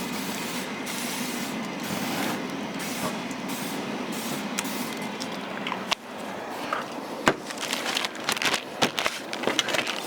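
Cleaned Weber kettle grill being sprayed: a steady hiss runs throughout, broken later by a few sharp clicks and knocks.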